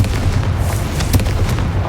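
Fire spell blast from Hogwarts Legacy, a dense booming burst over steady low rumble with sharp crackling pops scattered through the two seconds, loud and close.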